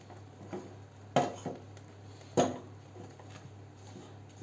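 A spoon clinks against the side of a pot twice while stirring baking soda into gingerbread mixture over heat, with sharper knocks and faint scraping between them in a quiet kitchen.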